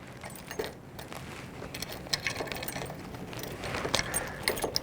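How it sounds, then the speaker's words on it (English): Keys jangle and clink as a set of three is sorted to find the right one for a 1949 Mercury Eight, light metallic rattles scattered across a low background hum. "Now I got 3 keys here."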